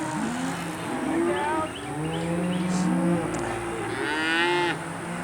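Cows moo repeatedly beside a road during a spring group bicycle ride, several long, loud, overlapping bellows from nearby cattle amid outdoor wind noise.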